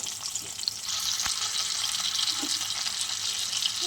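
Steady hiss of frying in a pan after a radhuni tempering, a continuous close sizzle with soft stirring scrapes and no voices.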